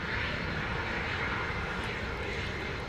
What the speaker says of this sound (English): We can still see the planes turning here. They're coming right at us.